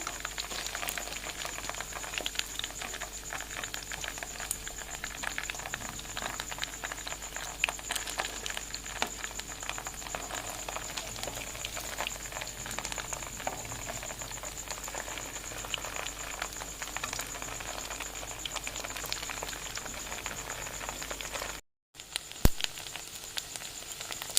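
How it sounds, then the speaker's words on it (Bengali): Sago pakoras deep-frying in oil over a medium-low flame, a steady, even bubbling sizzle with dense fine crackle that carries on unchanged, broken only by a brief dropout near the end. "মিডিয়াম টু লো ফ্লেমে এগুলোকে ভালো করে ভাজতে হবে একটু সময় নিয়ে"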